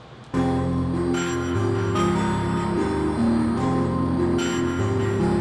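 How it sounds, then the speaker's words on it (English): A looping trap music sample with sustained, bell-like tones shifting between chords, played steadily without vocals. "So basically the song started with this sample that my friend gave me."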